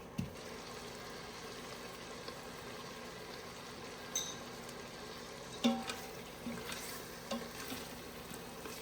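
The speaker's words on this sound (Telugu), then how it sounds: "ఆ సోటా ఆప్షన్లోనే మనకి అలా ఫ్రై అవుతుంది" Mutton frying in an Instant Pot on sauté mode, with a quiet, steady sizzle and occasional soft stirring knocks, heard close and with no talk.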